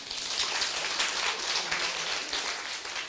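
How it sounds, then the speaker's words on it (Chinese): An audience at a Taiwanese political seminar bursts into applause: a dense, continuous patter of many hands clapping at steady loudness for the whole stretch, with no talk over it. "你免甲我拍手哟"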